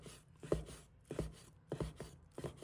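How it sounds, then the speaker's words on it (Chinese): A knife chops pork with layered fat and lean meat into small dice on a board, three quick bursts of close, sharp blade strikes separated by brief pauses, no talking. "再切成小粒"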